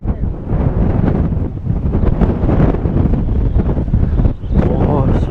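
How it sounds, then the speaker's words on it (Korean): Strong gusting wind buffets a cliff path toward the Shakotan observation point at Cape Kamui, a loud, continuous roar battering the microphone throughout. "바람 왜 이렇게 세?"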